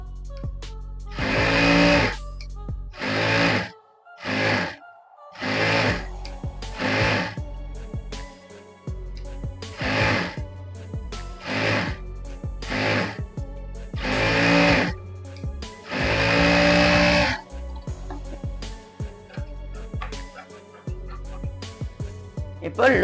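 A sewing machine stitches the back neck lining of a blouse in repeated short bursts with pauses between them, while a person talks intermittently.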